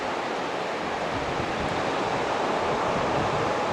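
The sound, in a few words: ocean surf at Seal Rocks Beach, Oregon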